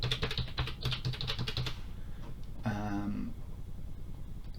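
Fast clicking keystrokes on a computer keyboard sound close in a rapid burst for under two seconds, then stop, followed by a brief tonal beep from the machine over quiet room noise.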